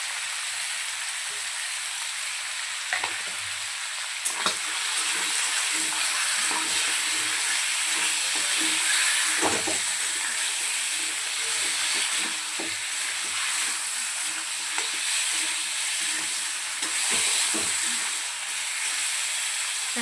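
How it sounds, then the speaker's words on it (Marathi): Hot oil sizzles steadily as something fries with turmeric and salt for a Malvani-style surmai fish curry, a continuous hiss broken by scattered clicks and scrapes of stirring, close and loud, without talk. "छान पद्धतीने फ्राय करून घेऊया।"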